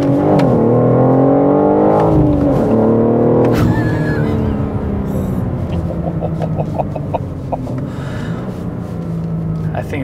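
A BMW M4 G82 with a manual gearbox pulls hard in first gear, its engine note rising loudly and then easing off, with rattling and road noise continuing close in the cabin.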